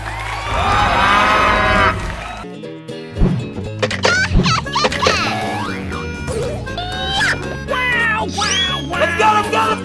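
Cartoon cow moos from a 3D animal slide video game, a loud drawn-out bellow followed by busy game effects, cheers and crashes, with music underneath.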